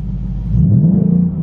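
A 2022 Ford Mustang GT V8 exhaust in track mode rumbles deep and close, swelling briefly as the engine revs up, then settling into a steady throaty burble.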